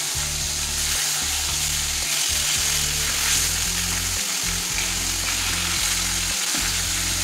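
Fish pieces frying in hot oil in a pan, turned on both sides until browned for a fish curry, give a steady, dense sizzle that runs unbroken and close throughout.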